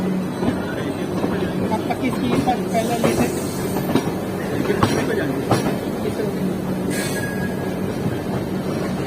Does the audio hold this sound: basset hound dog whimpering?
no